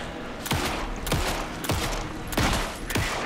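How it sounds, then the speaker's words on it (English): Gunfire in the video game Alan Wake 2, a rapid series of about five sharp, loud shots at roughly half-second intervals, each with a short booming tail. "Pin him down with gunfire."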